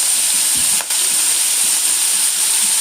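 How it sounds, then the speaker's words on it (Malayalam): Mustard seeds, garlic, green chili and ginger sizzle in hot oil, giving a steady, close frying hiss with a faint crackle and no voices. "കടുക് പൊട്ടിച്ച് അതിലേക്ക് തന്നെ നമുക്ക് വെളുത്തുള്ളി പച്ചമുളകും ഇഞ്ചി"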